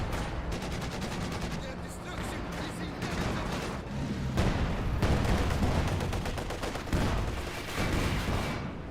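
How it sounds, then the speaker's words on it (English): Artillery barrage and rapid gunfire fill a Company of Heroes 2 battle, with dense overlapping bursts, booming impacts and machine-gun rattle running loud and continuous throughout. "We've got two Zis barrages running on in as well."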